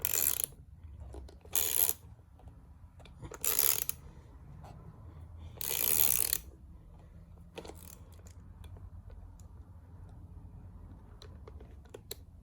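Ratcheting tool clicking as bolts are cranked out of a Porsche Boxster 986 steering wheel airbag, in short bursts of rapid close clicks separated by quiet gaps, with faint mechanical handling between.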